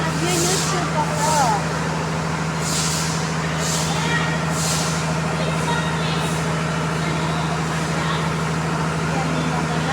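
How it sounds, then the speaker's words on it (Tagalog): A garbage truck engine rumbles steadily nearby while several sharp hisses of air brakes burst out in the first half, with street noise throughout. "Ang ingay na naman ang truck ng basura."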